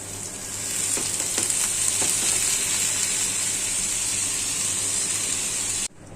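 Sliced bitter gourd fries in hot oil in a pan, a loud, continuous sizzle with faint crackles that runs steadily and then cuts off abruptly near the end.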